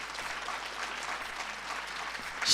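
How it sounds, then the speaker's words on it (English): Steady applause from a summit audience welcoming a female guest, a parliamentary committee chairperson, with even, continuous clapping at moderate distance that swells louder at the very end. "Can we please give her a round of applause?"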